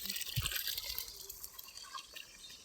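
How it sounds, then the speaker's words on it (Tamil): Water from a motor pump splashes and drips close by, quiet and irregular, with small trickles and droplets and no voices. "மோட்டரை இறச்சிட்ருக்கு, தண்ணி ஊற்றிட்டுருக்கு."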